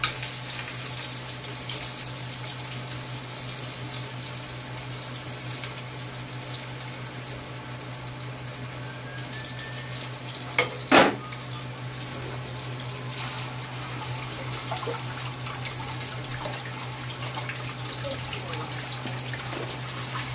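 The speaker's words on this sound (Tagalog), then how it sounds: "prito natin yung talong guys" Continuous hissing sizzle of eggplant frying in a pan over a low steady hum, with a brief clatter partway through.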